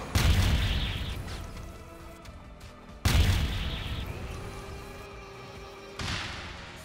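Three heavy booming blasts land a few seconds apart in the fighting game Anime Battle Arena, each a loud close hit that tails off into rumbling decay, with no talk over them.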